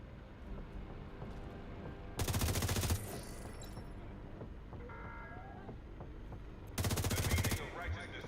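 A light machine gun fires in a shooter video game in two long rapid bursts, each lasting under a second, loud and close against quieter background game sounds.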